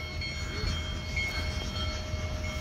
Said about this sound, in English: there is a train on the west end of Blair that is stuck